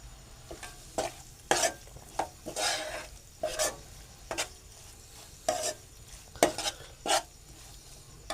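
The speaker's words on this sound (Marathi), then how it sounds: "आपल्याला हे परतून घ्यायचं आहे म्हणजे त्याला तेल सुटेल" Stuffed ridge gourd masala is stir-fried in oil until the oil separates, with a low frying hiss punctuated by sharp, irregular spatula scrapes and knocks against the pan.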